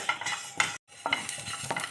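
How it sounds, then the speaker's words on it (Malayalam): Dry scraping and rattling of mustard and fenugreek seeds being stirred as they roast in a pan, in two bursts split by a brief silence. "കുറച്ച് കടുകും ഉലുവയും കൂടെ നമുക്കൊന്ന് വറുത്തെടുക്കാം"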